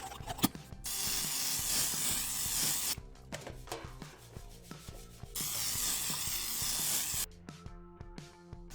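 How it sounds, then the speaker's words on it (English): Oil is sprayed over cubed bread for air fryer croutons in two long hissing bursts, close and clear, with small taps and handling noises between them. "Spray it with your favorite oil."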